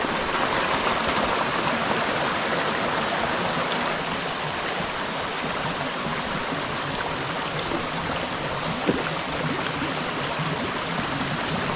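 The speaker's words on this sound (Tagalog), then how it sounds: "Sa sobrang lakas ng ulan." Dense, continuous rushing of downpouring water fills the air, a thick steady wash with no pauses or voices.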